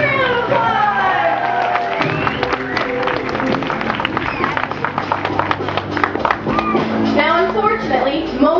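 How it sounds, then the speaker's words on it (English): An audience at a live tiger show with trainers claps and cheers loudly for about eight seconds, a dense wash of applause mixed with shouting voices and crowd babble. "Let's give Raina and Christian a big round of applause!"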